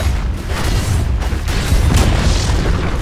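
In the Dota 2 video game a tower is destroyed, a loud, dense rumbling boom with crumbling debris that holds steady for several seconds.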